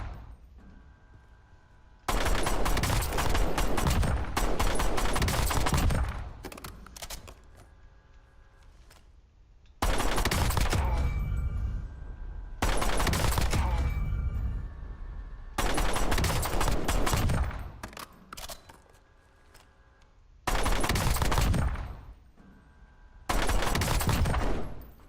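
Loud bursts of automatic gunfire from the video game Warzone, several sustained volleys of rapid shots separated by brief quieter gaps, with no talking.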